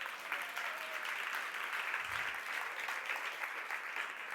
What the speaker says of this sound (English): why don't we give a round of applause for our helpers?